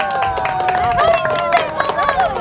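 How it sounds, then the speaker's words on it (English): Guests at a child's first birthday party clap and cheer together, a lively round of applause mixed with overlapping voices and excited high-pitched shouts. "Everybody give yourselves a thunderous round of applause!"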